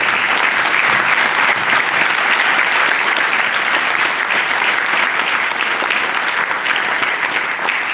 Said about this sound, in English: I request everyone to collectively give a big round of applause to every award we have.